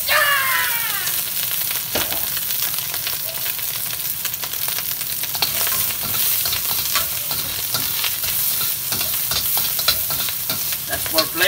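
Garlic and sausage frying in a pan give a steady, dense sizzle with occasional stirring clicks and scrapes, close and continuous throughout with no talk.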